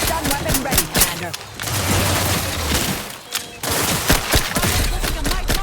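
Gunfire in the video game The Outer Worlds 2, with loud, dense bursts of rapid shots and booms that keep going with a few brief pauses, mixed with game voices.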